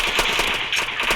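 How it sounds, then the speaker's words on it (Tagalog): Rapid gunfire rattles in a dense, continuous burst of shots lasting about a second, loud and harsh with no pauses between reports. "Baril."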